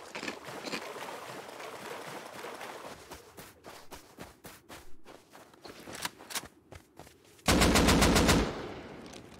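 Gunfire in the Rust survival video game: a run of sharp single shots spaced irregularly, then a loud, dense automatic burst near the end, alone without talk.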